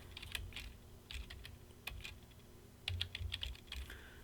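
Computer keyboard keys pressed while programming a Siemens LOGO controller, soft clustered clicks in short irregular bursts, faint and close, with quiet pauses between groups.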